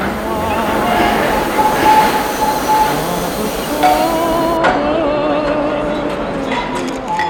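Tourist train with open carriages on the Dordogne truffle railway, a steady rolling rumble with faint squeals running throughout, while people talk over it.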